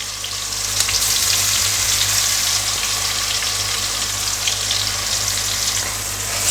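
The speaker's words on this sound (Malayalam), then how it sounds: "ഇത് കുറച്ച് ഹീറ്റായി വന്നപ്പോഴത്തേക്ക് നേരത്തെ ഞാൻ പേസ്റ്റ് ചെയ്ത് വെച്ചിട്ടുള്ള ഇഞ്ചി, വെളുത്തുള്ളി, ഓണിയനായിട്ടുള്ള പേസ്റ്റാണ്" A paste of ginger, garlic and onion sizzles and fries in a hot pan for a rich chicken curry. A loud, dense, close crackling hiss runs continuously with no talking.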